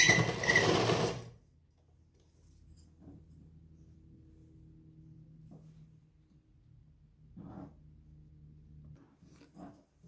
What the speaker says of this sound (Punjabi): ਆਪਾਂ ਜਿਹੜੀ ਬਾਹ ਦੀ ਸਿਲਾਈ ਲਾਵਾਂਗੇ ਬਾਹ ਦੀ ਸਿਲਾਈ